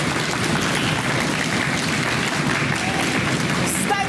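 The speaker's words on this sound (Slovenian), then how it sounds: "Dajmo en aplavz" Audience applause at a Slovenian quiz show, a dense, steady wash of clapping throughout at fairly close range, with no talk over it.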